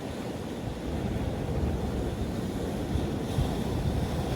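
Sea waves wash against rocks near the Kinnaird and Fraserburgh lighthouses as a steady roaring surge, mixed with gusty wind buffeting the microphone and no voices.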